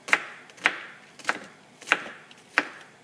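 Five sharp knife chops strike a cutting board at an unhurried, fairly even pace, crisp and close with quiet gaps between.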